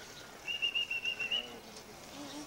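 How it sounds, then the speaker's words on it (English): A pigeon flaps its wings in a rapid run of about eight soft beats lasting under a second, fairly close, then stops, leaving quiet outdoor background. "We want to try and get a bird to fly out of that hole and have him land right here on your hand."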